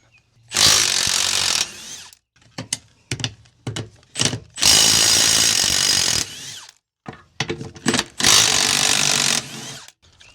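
A power tool spins off an 11/16 nut on a camper trailer axle during running gear replacement, three loud sustained whirring bursts close by, broken up by shorter revs and pauses.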